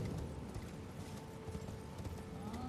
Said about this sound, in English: we're just going to get on our horse and run straight up here